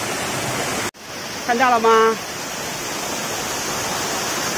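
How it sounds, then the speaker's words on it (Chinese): Alibang Waterfall, the largest falls in Yangmingshan, pours in a steady broadband roar, with a brief voice speaking over it and a momentary dropout near the start. "阿里棒瀑布，阳明山最大的瀑布"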